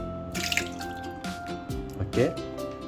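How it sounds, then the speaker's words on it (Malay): Water is poured into a cooking pot while boiled mackerel with turmeric is being made, giving splashing, dripping bursts under ongoing talk. "Lepas tu air ni kita air ni kita masukkan ke dalam ni."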